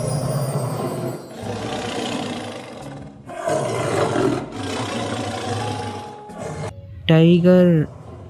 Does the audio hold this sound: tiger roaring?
yes